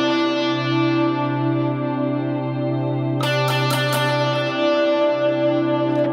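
An electric guitar with effects and reverb sustains a steady low drone while single melodic tones ring over it, with a few sharp picked attacks in the middle, played alone with no talking.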